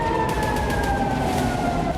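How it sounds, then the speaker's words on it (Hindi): Air raid sirens wail over Tel Aviv in a loud, continuous, slowly falling tone that carries unbroken through the whole stretch with traffic rumble beneath. "ये इजराइल के तेल अवीव से आई तस्वीरें हैं जहां सायरन गूंज रहे हैं"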